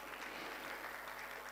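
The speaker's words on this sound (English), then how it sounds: "You should clap for the fund for that." Applause at a high-level leaders' breakfast meeting, clapping for a fund's program: a brief, fairly quiet patter of many hands, an even spread of claps with no voices.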